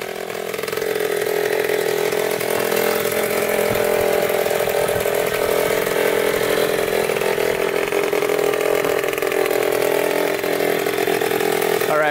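A Cobra 50cc dirt bike engine runs steadily at close range, a loud, buzzing two-stroke drone that holds constant the whole time with no pauses.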